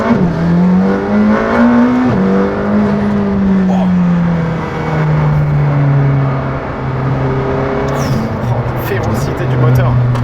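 A McLaren Senna's 800 hp engine revs hard during a launch start, holding a rising, growling note with shifts in pitch, loud and close, while people talk over it.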